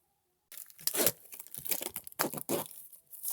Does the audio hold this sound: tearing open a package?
yes